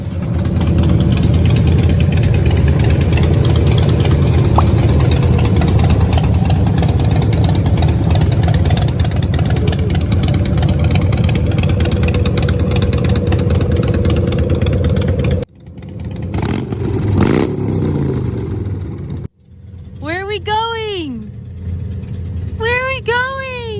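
A Honda Shadow Spirit 750 motorcycle engine runs loud and steady at idle for a long stretch, then cuts out and gives a few rougher bursts before quieter sounds and chirping follow.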